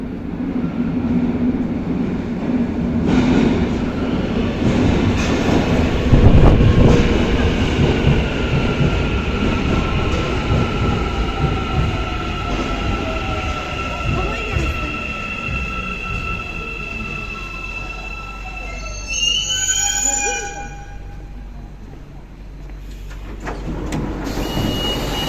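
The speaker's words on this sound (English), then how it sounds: "let's take a look at Metro Line 2 Shuttle, which is a small shuttle service just between two stations." An Istanbul Metro Line 2 shuttle train rumbling along the track, with rising and falling motor whine and brake squeal near the end as it slows, then a brief quiet.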